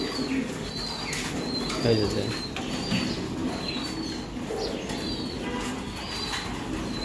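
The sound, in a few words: female racing pigeon cooing and flapping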